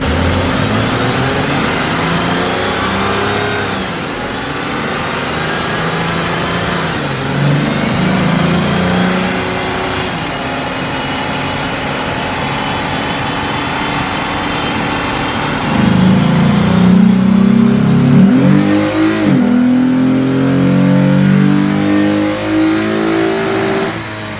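A Lexus IS350 F-Sport engine revs hard through a steady dyno pull, a loud, continuous, close drone that climbs in pitch and swells louder toward the end, with no talking.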